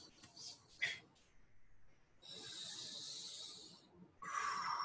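Audible breathing comes in soft, airy, hissing inhales and exhales, close and quiet, with longer drawn breaths following a few brief puffs.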